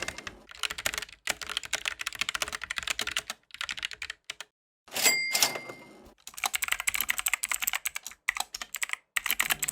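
Typing on an inexpensive 60% mechanical keyboard, rapid close clacking keystrokes in steady bursts with a couple of brief pauses and a short louder clatter midway.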